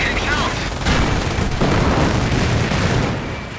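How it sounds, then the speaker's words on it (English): Panzer tank firing its cannon quickly in the video game Company of Heroes, with heavy booming shots and rumbling blasts over continuous battle noise, and a voice speaking along with it. "The Panzer is able to fire more quickly."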